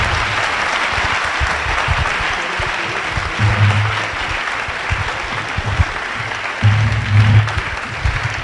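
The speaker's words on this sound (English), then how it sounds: "Can we get one more round of applause for all 3 participants in tonight's debate?" Sustained applause from a debate audience, a steady broadband wash of clapping lasting the whole stretch, with brief low murmurs of voices rising underneath partway through.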